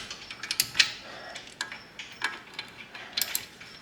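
A ratchet wrench tightens a bolt on a Nissan Altima race car, giving a close series of quick metallic clicks in uneven bursts over a faint background hiss.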